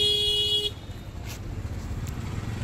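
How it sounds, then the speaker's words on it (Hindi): Street traffic in Patna, with a steady horn tone at the start giving way to a rumbling mix of cars and motorcycles, plus a few brief honks further off. "लेकिन भाई ट्रैफिक भी उतना ही है, आप लोग देख सकते हैं।"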